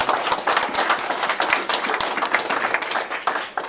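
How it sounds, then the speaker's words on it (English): A crowd claps steadily in a dense, loud round of applause that lasts the whole clip. "So I want to make sure we give them a warm round of applause."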